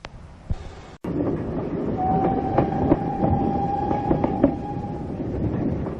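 A South Devon Railway train on the Dart Valley line pulls away toward Totnes, a steady rumbling run with clacking wheels and a long sustained whistle tone through the middle, close and fairly loud.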